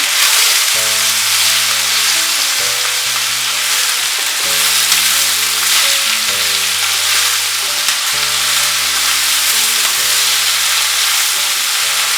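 Pumpkin leaf curry, freshly salted, sizzles loudly and steadily in a pan while being stirred, a dense continuous hiss under a repeating melody.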